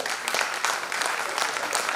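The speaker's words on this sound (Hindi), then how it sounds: "प्लीज जोरदार तालियों से स्वागत" Crowd applause at a school founder's day event, a steady patter of many hands clapping throughout, fairly loud and close.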